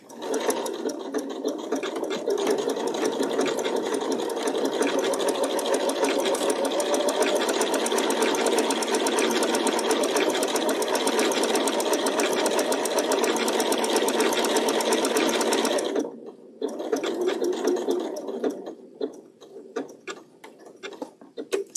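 A sewing machine stitches a quilt block in a steady, close whir of rapid ticking needle strokes. It cuts out briefly near the end, then restarts in short bursts.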